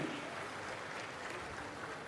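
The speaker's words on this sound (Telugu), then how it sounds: "గట్టిగా చప్పట్లు కొట్టి అభినందించండి" Applause from a crowd at a public government event with Chandrababu and Chittoor police, a steady broad wash of clapping at moderate distance for about two seconds, with a faint hint of voices underneath.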